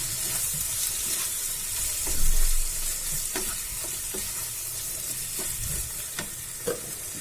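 Paneer bhurji with fresh coriander sizzles steadily in a pan while a spoon stirs it, giving a constant frying hiss broken by scraping strokes and soft knocks, close and with no talking.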